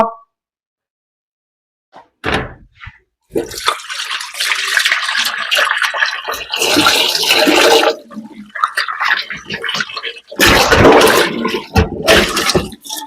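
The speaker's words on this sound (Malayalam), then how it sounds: "അതിന്റെ ഇടയിൽ ഞാൻ എന്റെ ചിക്കൻ ഒന്ന് കഴുകി വരുന്നുണ്ട്" Running water from a tap pouring over raw chicken being washed in a kitchen sink, a steady rushing splash that starts and stops in bursts, close and fairly loud, with no talk.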